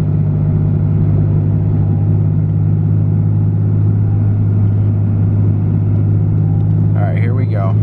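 A Cummins 6.7L diesel truck with a dual disk clutch cruises in third gear, its deep, steady engine drone loud and constant throughout.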